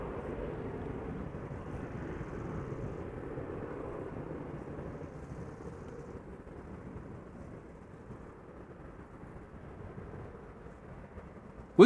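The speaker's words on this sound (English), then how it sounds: "Embraer 190 going to Gothenburg." A KLM Embraer 190 departing Schiphol leaves a distant, low rumbling jet roar that slowly fades, steady and muffled with no voices.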